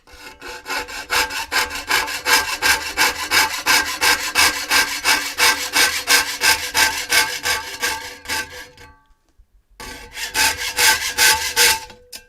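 A wooden model part for a Toby tram engine build is sawn out by hand with a fine blade, fast steady rasping strokes running continuously, breaking off for a moment, then resuming close and loud.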